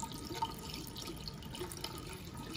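Water drains steadily through an air conditioner condensate drain line after flushing, a faint continuous trickle and gurgle with small drips and no talk.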